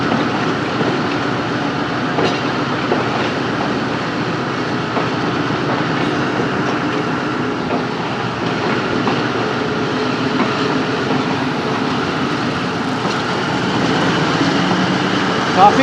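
Continuous rumble and rhythmic clatter of the Sialkot Express passenger train running on the line toward Sialkot, heard from on board with people talking over it.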